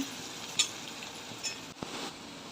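Ground turmeric, coriander and cumin powder stirred into onions frying in a pan for a cowpea pod dish, a steady soft sizzle with a few scraping stirs and light clinks, close and alone.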